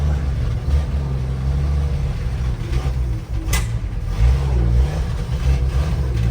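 An old International farm truck, parked for years and weak on its accelerator pump, drives with a loud, rough low engine rumble that rises and falls as it revs, with a brief mechanical clunk midway through.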